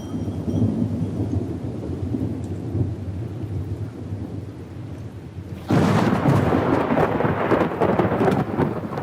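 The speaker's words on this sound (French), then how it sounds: "Je sens la pluie." Steady rain with rumbling thunder at Bugarach in the French Pyrenees, loud and continuous, swelling abruptly into a heavier, harsher downpour partway through, with no voices.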